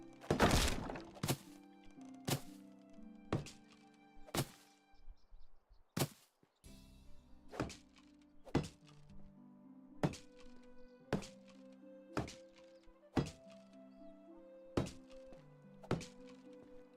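Blocky video game house being torn down piece by piece: a run of sharp, regular thunks and chops, roughly one per second, each followed by a short tonal tail, close and fairly loud with no talk over them.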